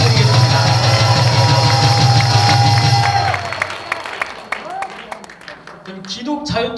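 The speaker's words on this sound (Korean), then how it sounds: "다시 한번 기독자유통일당의 윤재석 목사님께 뜨거운 박수 부탁드리겠습니다" Crowd applause from a church worship service audience, loud and sustained for about three seconds before fading into scattered claps and murmuring.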